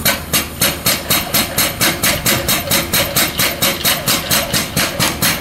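A portable diesel fuel transfer pump runs steadily and loud, its motor clattering in a fast, even, pulsing rhythm with sharp repeating knocks, no voices over it.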